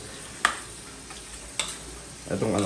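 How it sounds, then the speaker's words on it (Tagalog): Winged beans cooking in a pot are stirred with a couple of sharp utensil knocks against the side, then a scraping swirl over a steady background simmer. "Yan, hahaluin na natin yan."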